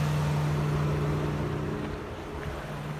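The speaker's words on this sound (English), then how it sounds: "Listen to the engine a little bit." A 2012 Toyota Highlander's engine idles with a steady low hum at a constant pitch, close and unchanging, with no voices.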